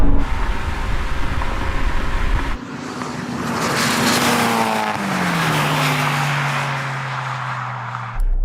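A Toyota 86, a Mazda NC Roadster and a Honda S2000 drag race as sports car engines rev hard. Loud engine tones climb and then fall through the gears, with a sharp cut near the middle and more revving at the end.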